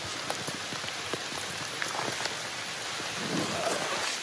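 Heavy rain pours steadily in woodland around a tarp campsite beneath a big sycamore tree, a dense, constant hiss scattered with sharper individual drop hits and no voices.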